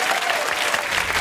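Audience applause at a late-night talk show taping, a short dense burst of clapping filling the room, loud and continuous.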